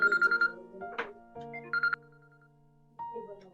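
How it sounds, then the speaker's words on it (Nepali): A mobile phone rings during a Nepali Christian sermon, a melodic electronic ringtone with a few short bursts and tones, then a brief pause before it resumes, fairly quiet in the room. "मेरो फोन आएको छ है, सरी"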